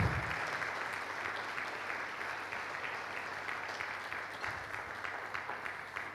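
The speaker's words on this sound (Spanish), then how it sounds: "Dale un aplauso al Señor si lo crees" A church congregation applauds during a sermon, a dense, continuous wash of clapping from many hands, moderately loud and even throughout with a low hum underneath.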